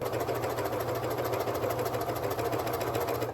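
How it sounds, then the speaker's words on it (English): A cover stitch sewing machine hemming leggings, running as a steady close mechanical whir with a rapid even rhythm throughout, alone without talk. "lower your presser foot, and start sewing"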